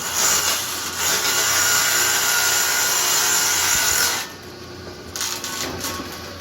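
A portable table saw rips through a sheet of warped plywood, a loud steady whine and cutting roar that holds for about four seconds, then drops as the blade runs free and winds down, with no talk.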